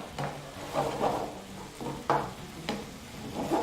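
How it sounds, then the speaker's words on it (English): Beef mince for bolognese frying in a pan, a steady close sizzle with soft scraping stirs recurring every second or so. "So we're just going to let that continue frying for a little bit."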